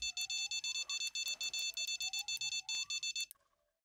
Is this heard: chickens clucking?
no